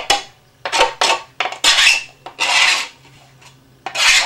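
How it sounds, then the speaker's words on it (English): A sharp three-edged art supply scraper rasps along the edges of a speaker box in short, close strokes, some quick and some longer, with brief pauses between them and no voices. "This is an art supply tool. It's sharp on three sides. It's called a scraper."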